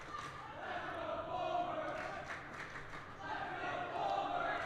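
Crowd cheering at a Wissahickon vs Hatboro varsity wrestling match, a faint, distant wash of shouting voices swelling and easing in waves across the gym, with a nearby voice talking over it.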